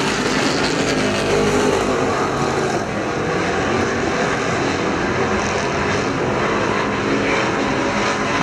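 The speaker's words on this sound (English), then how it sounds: "IMCA stock cars on the racetrack of the 72" IMCA street stock cars race around Perris Auto Speedway, a loud continuous roar of several engines droning together at close range with no let-up.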